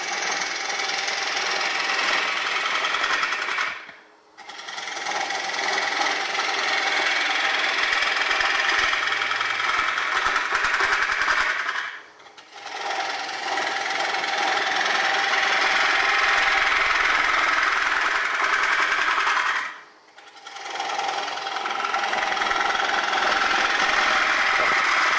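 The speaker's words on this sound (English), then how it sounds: "a lathe is a very fast way to carve because the machine is doing the work" A wood lathe spins a bowl blank while a gouge cuts it, throwing chips. A steady, loud machine whir and cutting noise runs through the clip and stops briefly three times.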